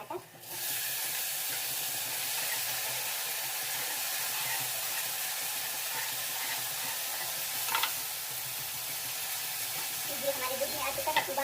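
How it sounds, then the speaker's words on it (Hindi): Tomatoes hit a pan of roasting coriander powder and burst into a loud, steady sizzle that hisses continuously, with faint stirring clinks rising near the end. "धनिया पाउडर जो है थोड़ा भून चुका है, ज़्यादा हमें इसे नहीं जलाना है। तो अब हम इसमें डाल देंगे टमाटर।"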